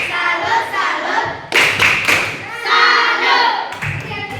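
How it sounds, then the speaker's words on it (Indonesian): Children clap in rhythmic bursts for a classmate's salute chant. The claps are loud and close, and their voices chant along throughout. "Tepuk salut untuk Ferin."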